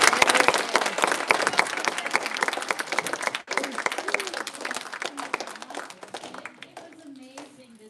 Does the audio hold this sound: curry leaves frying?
no